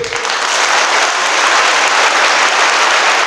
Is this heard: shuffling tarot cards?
no